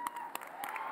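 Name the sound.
audience applause for the judges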